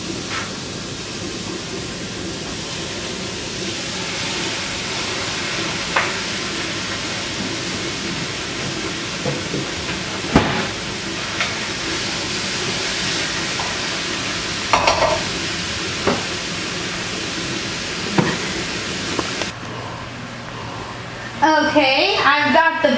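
Two pounds of ground beef brown in a pan for southwestern-style chili, giving a continuous close sizzle with occasional clacks and scrapes of stirring, while a voice talks over it at times.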